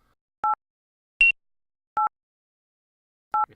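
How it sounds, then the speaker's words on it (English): Password-cracker beeping in the video game Uplink: three identical short electronic beeps at an even interval, plus one brighter, higher beep partway through, crisp and isolated against silence. "See, this is beeping properly now."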